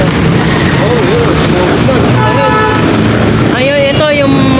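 A boat motor drones steadily out on choppy water, loud and close, mixed with wave wash, short horn-like toots and people talking over it.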